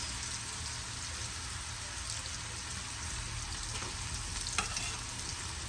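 Onions and prawns frying in a pan, giving a steady, close, continuous sizzle with a faint clink or two near the end and no voices.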